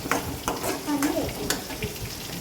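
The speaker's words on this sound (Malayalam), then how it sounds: "ഇളക്കി യോജിപ്പിച്ച് വഴറ്റിയെടുക്കുന്നുണ്ട് ഇതിലേക്ക് ലേശം മഞ്ഞൾ കൂടി ചേർത്ത് കൊടുക്കുന്നുണ്ട്" Masala with turmeric is sautéed and stirred in a pan for a fish dish, a steady close sizzle broken by several sharp spatula scrapes and clinks, with no talking.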